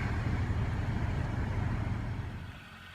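A 2003 Honda Element driving slowly out of a repair shop after a rear brake pad change: a steady low engine rumble, close and even, fading slightly toward the end.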